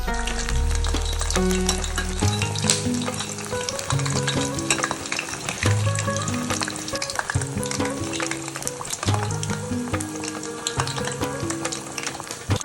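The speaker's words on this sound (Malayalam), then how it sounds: "ഇനി നമുക്ക് എണ്ണയിലേക്ക് ഇടാം." Urad dal vada with small holes fried in hot oil, giving a continuous bubbling sizzle at moderate level beneath steady background music.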